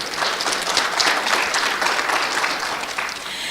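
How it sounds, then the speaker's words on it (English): Sustained applause from a large audience at a national ICT summit, dense steady clapping at even loudness throughout with no break. "Please give yourselves a round of applause for just being here today."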